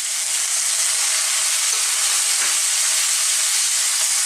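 Tomatoes sautéing in a pan produce a loud, dense, unbroken sizzling hiss that fills the whole stretch, with a few faint stirring knocks underneath and no voices.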